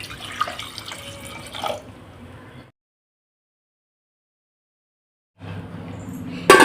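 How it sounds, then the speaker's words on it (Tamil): Water pours from a tap into a cooking pot of cut squid seasoned with turmeric and salt, a steady splashing stream that stops dead, then resumes close by. "இப்போ இந்த கனவா முங்குற அளவுக்கு நம்ம தண்ணி ஊற்றிக்கிடலாம்"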